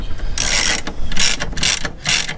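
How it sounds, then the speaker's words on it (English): A hand ratchet with a socket extension turns a bolt while fitting an aftermarket steering wheel in a Suzuki Carry, giving four quick, loud bursts of close rapid clicking separated by short pauses. "No, it's gonna seem weird using a socket extension on it,"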